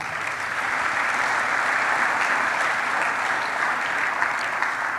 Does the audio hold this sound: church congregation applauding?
yes